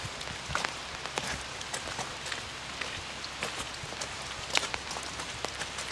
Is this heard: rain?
yes